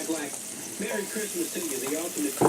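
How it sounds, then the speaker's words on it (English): Thick bacon sizzles in a skillet with a steady, crackling hiss while a person talks over it throughout. "the bacon is ready. You can see it sizzling"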